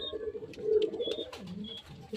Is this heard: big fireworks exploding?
no